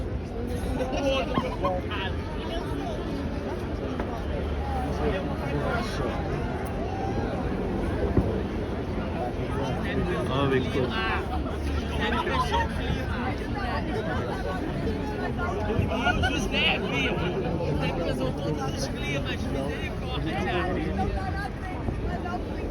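A dense crowd chatters and murmurs in a steady, continuous hubbub while waiting for midnight at a New Year's Eve celebration in Portugal, with a drone show about to begin. A nearby voice speaks briefly over the babble.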